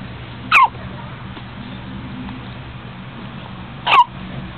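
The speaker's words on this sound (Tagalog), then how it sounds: "Ayan, ganyan sinok niya lakas oh." Two loud, sharp hiccups spaced a few seconds apart, each a brief abrupt burst standing out against a quiet indoor background hum.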